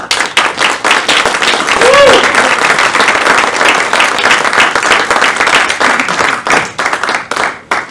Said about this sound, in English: And I just want you to greet him with a round of applause, Mr. David Silver.